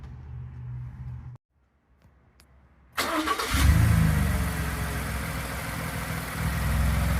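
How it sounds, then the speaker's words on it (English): A 2015-2017 Ford F150 engine, after a thermostat replacement, cranks and starts following a brief near-silent pause, then settles into a loud, steady idle that stays close and continuous. "Now you're going to let it run till it gets to normal operating temperatures."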